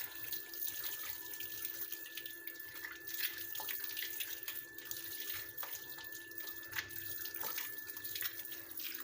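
Hands are washed under a running tap after a dark hair-dye gel is applied. A soft, steady stream of faucet water runs throughout with faint splashes, fairly quiet and with no talk.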